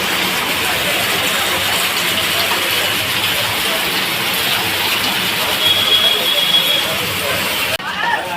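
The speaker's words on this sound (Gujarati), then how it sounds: "ધોધમાર પડી રહ્યો છે" Heavy rain pours down at the Kapodra crossroads after three days of steady downpour, a loud, dense, unbroken roaring hiss that holds steady throughout and shifts briefly near the end.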